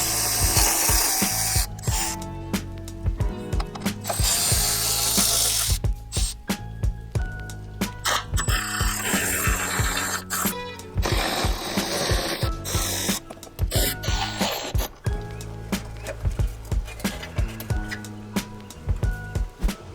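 Ratchet and tools working bolts loose in sequence under a BMW M3 with a DCT transmission, close-up clicking and clattering bursts that repeat irregularly over steady background noise, with no talk.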